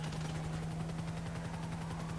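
Police helicopter in Grand Theft Auto 5, a steady chopping rotor drone with a low hum, heard continuously and fairly close with no speech.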